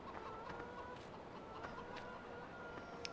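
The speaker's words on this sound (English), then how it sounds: "Chickens just be jumping up on the equipment, though." Chickens clucking in the Farming Simulator 15 video game on the Paradise map, a faint steady murmur of overlapping clucks and short calls over a constant farm ambience, with no talking.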